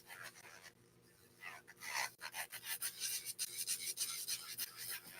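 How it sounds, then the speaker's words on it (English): A nail buffer rubbed across the top surface of a fingernail during a full nail set, quick soft scratchy strokes close by, quiet at first and then repeated briskly. "basically you're buffing on the top of the nail surface"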